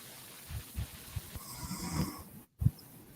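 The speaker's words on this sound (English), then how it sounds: "Yeah, he's snoring." A sleeping man snores softly in a quiet room, with a string of faint, rhythmic breathy rumbles and one slightly stronger snort near the end.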